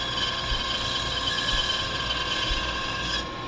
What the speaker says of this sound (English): We turn the bandsaw off.